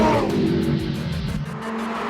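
An Audi R8 race car lapping fast on the Nürburgring Nordschleife, with a loud, sustained engine roar and tire noise heard close, the pitch shifting slightly as the car powers through corners.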